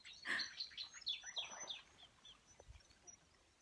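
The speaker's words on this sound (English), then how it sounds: "Without the crows, it would be quite a nice video, I think." Crows call among willow branches beside a river, a quick run of harsh chirping calls early on, then fading to faint scattered notes over a soft background hush.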